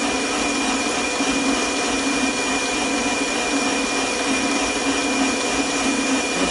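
A metal lathe spins a freshly turned piece held in its chuck, producing a steady, loud, even whirring drone with a constant hum and no breaks.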